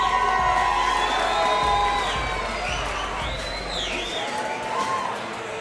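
A crowd at an amateur boxing event cheers and shouts for a fighter, with high whoops and yells rising over a loud, continuous roar of voices.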